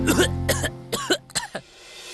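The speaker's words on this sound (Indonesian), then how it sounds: "Tuh kan batuk terus." A person coughs indoors in four to five sharp, separate bursts, loud and close, with the first coughs coming rapidly and the later ones spaced out.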